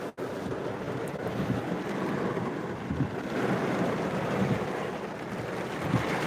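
Dense, constant hiss of heavy monsoon rain in Kerala pounding a moving car with wipers running fast, with a low road rumble underneath and no voices.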